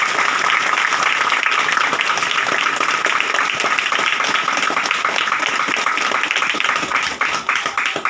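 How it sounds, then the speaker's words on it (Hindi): Loud, dense applause from a church congregation fills the whole stretch steadily, thinning slightly at the very end. "जोरदार थापड़े"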